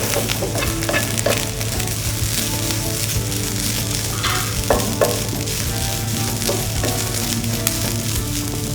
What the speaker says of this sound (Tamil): தேங்காயும் ஓரளவு வதக்கிங்க.